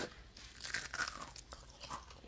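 Crunching bites of home-fried seasoned onion rings, a run of close, crisp chewing crunches repeating irregularly with no talk.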